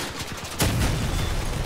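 A cannon car fires in the vehicle combat game Crossout, one sharp loud blast followed by a rumbling boom that decays over continuous battle noise, with no talking.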